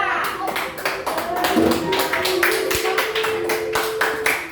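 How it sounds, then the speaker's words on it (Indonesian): Classroom applause for three students during a teaching-practice lesson: a steady patter of many hands clapping at close range, continuous for several seconds with a tapping quality. "Tepuk tangan untuk mereka bertiga."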